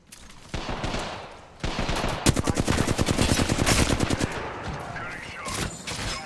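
Heavy shotgun gunfire in the Apex Legends battle royale, a dense run of rapid loud blasts with many sharp reports firing back to back, then trailing off into scattered shots and game noise.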